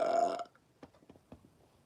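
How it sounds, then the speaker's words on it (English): A single loud burp from a person on a livestream, short and close, followed by faint soft mouth noises and quiet. "my bad, I got a burp"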